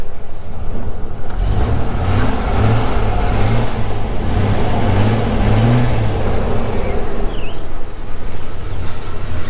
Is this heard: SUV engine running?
yes